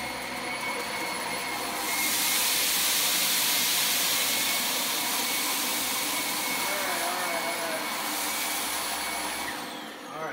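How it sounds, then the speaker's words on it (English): A Dyson DC25 upright vacuum cleaner runs steadily with a loud broadband whoosh and motor whine that swells around two seconds in and holds for about eight seconds before easing off. "Right here is where the Dyson DC25 vacuumed."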